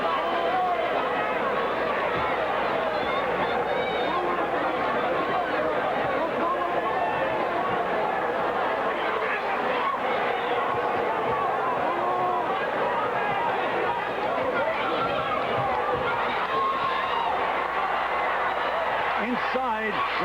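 Nearly 11,000 boxing fans packed into Arco Arena keep up a dense, steady roar of cheering and chatter for an IBF super lightweight title fight, continuous from start to end.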